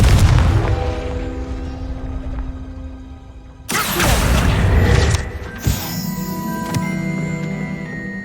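A Confringo fire spell goes off in Hogwarts Legacy with a sudden loud, booming blast, followed by crackling and a second, smaller impact, all over a steady game soundscape.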